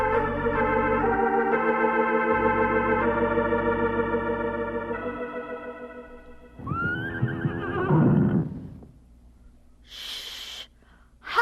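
A horse neighs in a barn as an audiobook sound effect, a loud drawn-out whinny over a music bed, followed by a shorter breathy snort.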